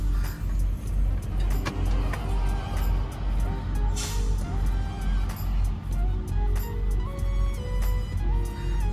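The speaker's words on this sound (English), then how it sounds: "we're about to start the truck" Engine of a 2021 Freightliner Cascadia truck cranking over and settling into a loud, steady diesel idle with a deep rumbling drone, close by, with a few clicks and rattles on top.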